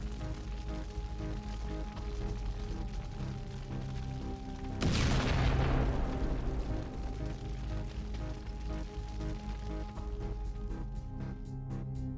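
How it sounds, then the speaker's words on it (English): A single heavy boom of artillery fire aimed at Russian armored personnel carriers bursts out midway, sharp and loud above a constant low background rumble, with faint crackles following afterward. "Ukrainian artillery is currently firing at 3 Russian armored personnel carriers with Russian troops."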